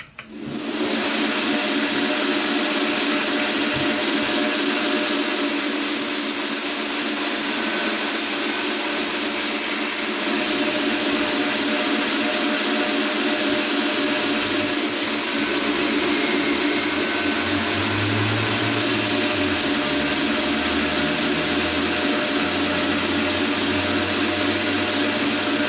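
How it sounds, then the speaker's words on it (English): Knife blade being rough ground against a hollow-grinding wheel: a loud, steady, unbroken grinding whine that holds for the whole stretch with little change, and no voice over it. "Back to grinding."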